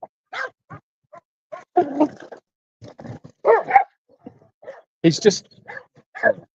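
A dog at home gives short yips and whimpering barks in uneven bursts, close by and mixed in with a person talking over it.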